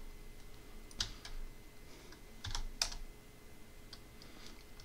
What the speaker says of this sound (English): so we have to manually type it in